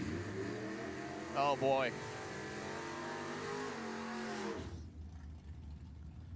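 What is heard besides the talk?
drag race cars accelerating, 64 Fairlane and 55 Chevy wagon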